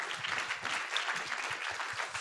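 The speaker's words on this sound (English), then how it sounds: "let's just give a round of applause for all the students that presented today" An audience applauds the students who presented at a university data science showcase, steady overlapping claps at moderate level for the whole stretch, with no voices over them.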